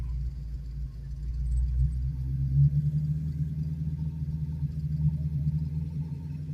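A manual car pulls away in first gear as the clutch comes out, its engine giving a steady low rumble that swells slightly as gas is added, close and continuous with no talk.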